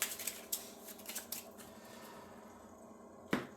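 A small stack of start cards for a board game gets shuffled, giving a few quick papery riffles and snaps early on, then a quieter stretch and one last sharp card flick near the end.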